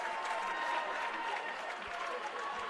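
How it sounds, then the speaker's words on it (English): A basketball crowd at a conference tournament game between Central Methodist and Peru State keeps up a sustained roar of cheering and applause across the arena, with an announcer talking over it. "That's all we needed was the crowd."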